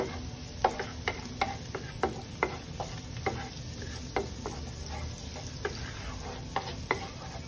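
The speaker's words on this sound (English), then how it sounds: "So, saute the garlic." Garlic sautéing in a pan for garlic butter eggs with cabbage: a steady close sizzle with a series of sharp utensil scrapes and taps against the pan at an irregular beat, no voices.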